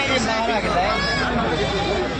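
A dense chorus of goats bleating nearby at a busy goat market in Kalpi, Uttar Pradesh, with loud, quavering calls overlapping without pause above a murmur of voices.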